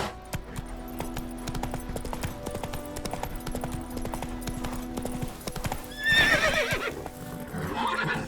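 Roach, the horse in The Witcher 3 Wild Hunt Next Gen, gallops with rapid rhythmic hoofbeats, then gives a loud whinny partway through before the hooves carry on.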